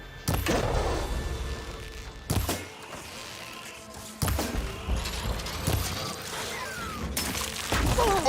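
Rocks hurled by machine creatures smash with sharp, loud crashing impacts in the action game Horizon Forbidden West, several separate heavy hits spread across the stretch amid rumbling combat noise.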